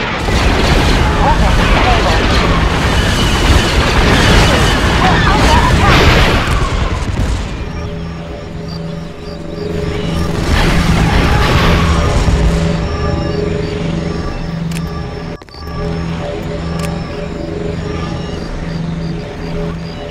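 Weapon fire and heavy explosions rumble in a Star Wars space-battle strategy game, a dense continuous barrage of booms up front that thins to a steadier roar with faint background hum and scattered blasts.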